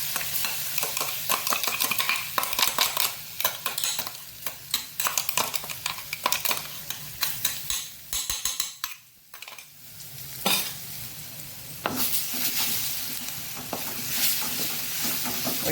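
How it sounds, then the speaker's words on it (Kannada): Masala paste for Udupi Mattu Gulla chutney fries in oil with cumin, sizzling loudly while a spoon scrapes and stirs against the pan in irregular bursts, with a brief quieter pause midway. "ಆ ಮಸಾಲೆಯನ್ನು ಸ್ವಲ್ಪ ಇದರಲ್ಲಿ ಎಣ್ಣೆಯಲ್ಲಿ ಹುರಿದುಕೊಳ್ಳೋಣ"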